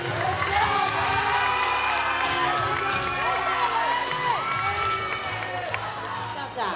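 A school audience at a high school's eighteenth anniversary celebration cheers and shouts loudly, a sustained mass of excited voices with scattered whoops and faint clapping underneath.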